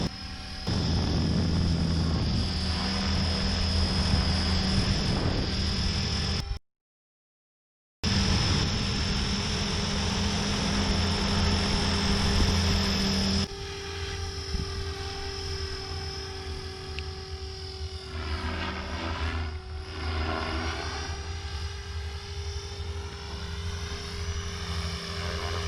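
A Blade 500 RC helicopter flies stunts, its rotor and motor giving a steady high whine that holds throughout, with a brief dropout, then settles lower and softer with wavering pitch as it flips and rolls.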